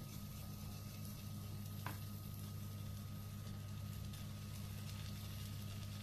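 Courgette galette batter sizzling steadily in a hot frying pan, a continuous even crackle with a faint low hum underneath and one brief clink, no voices.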